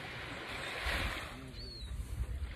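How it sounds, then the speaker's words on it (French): Ocean waves wash in as a broad, steady surge with wind buffeting the microphone, swelling briefly and then settling under a continuous rush, fairly close and moderately loud, with no talking. "le bruit des vagues"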